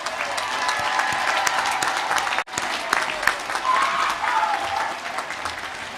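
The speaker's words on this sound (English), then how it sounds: "Please join me in applauding all of these physical therapy doctorates." A large commencement crowd at Pacific University claps steadily for new physical therapy doctorates, a thick sustained roar of hands that briefly drops out midway before resuming, with a few cheers mixed in.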